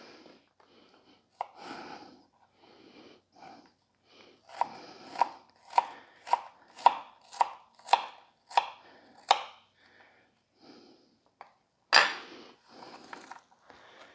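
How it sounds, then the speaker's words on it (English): A knife dices vegetables on a cutting board for squash and zucchini fritters, a run of sharp, evenly spaced chops that comes in a steady rhythm and then gives way to a few scattered taps and a louder final knock. "I'm dicing it up kind of smallish"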